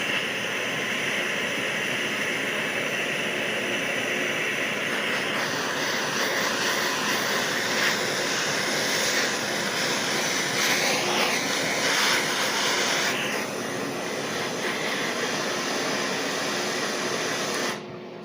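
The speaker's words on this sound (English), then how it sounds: "I'm going to heat this up with a torch a little bit, just get a little bit of heat into it." Propane-style torch flame roaring steadily as it heats a cast iron flange in a welding shop before TIG brazing a fitting for a hydraulic oil cooler, a continuous close broadband hiss with slight surges partway through.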